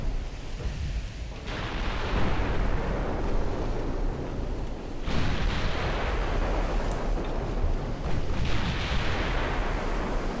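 Naval gunfire from Ultimate Admiral Dreadnoughts battleship combat: heavy, rumbling broadband blasts roll in successive waves, with sharp onsets around two, five and eight-and-a-half seconds over a continuous low roar, no voices.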